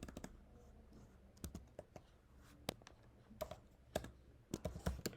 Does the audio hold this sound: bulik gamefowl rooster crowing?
no